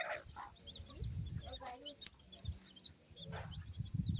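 Local-breed backyard hens clucking at close range while being fed, soft repeated clucks and chirps scattered through the clip over a low outdoor background.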